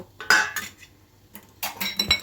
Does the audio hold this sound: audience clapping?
no